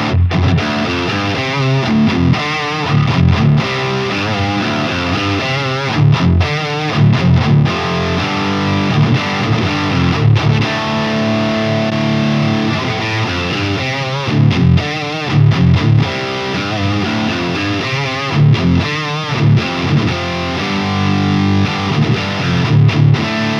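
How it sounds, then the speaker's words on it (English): A distorted electric guitar through the Neural DSP Omega Granophyre plugin with mid boost on plays chugging riffs and chords with a thick, forward midrange tone, loud and steady throughout. "if I turn this on, it will give us a nice mid boost to the sound."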